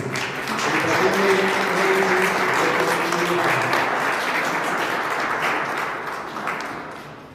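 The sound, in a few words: applause for Génesis at a baptism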